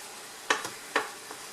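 Mushrooms cook in a hot pan and release water that deglazes the bottom, with a low steady sizzle broken by two or three sharp scraping stirs close by.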